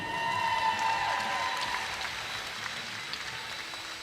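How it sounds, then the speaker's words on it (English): Applause from the crowd at a women's lumberjack timbersports championship, a steady wash of clapping at moderate distance that slowly tapers while a faint announcer voice carries over it. "They got one more big round of applause for Martha King."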